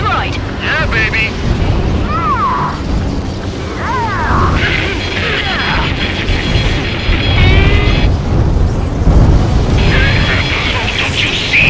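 Booming explosions in the Ace Combat 7 flight game as a rail cannon is destroyed, rumbling low and continuous under chirping radio and voice chatter, with crashing bursts throughout.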